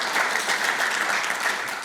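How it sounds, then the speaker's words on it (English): Steady applause from a conference audience, dense and sustained for the whole moment with no break, filling the room evenly at moderate loudness. "round of applause for George"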